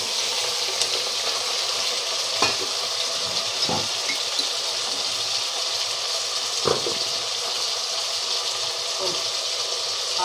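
Chicken pieces frying in a pan with oil for a green chicken gravy: a soft, constant sizzle with a few brief clinks from stirring scattered through it.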